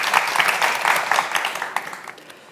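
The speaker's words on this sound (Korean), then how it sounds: "장병 여러분께 다시 한번 박수 부탁드릴게요" Audience applause for soldiers rings out at a Korean broadcast tribute event, a steady, fairly close wash of many hands clapping that holds for a couple of seconds and then tapers off slightly.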